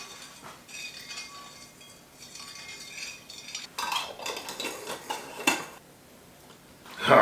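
A spoon stirs fresh lemon juice, dry yeast and ginger together in a container, giving close scraping and clinking that builds toward sharper knocks near the end.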